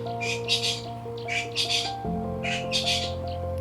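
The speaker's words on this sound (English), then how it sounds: "There's so many birds here." Birds squawking and calling in Kruger National Park, three bursts of harsh calls over a steady hum of other sounds, moderately close and not loud.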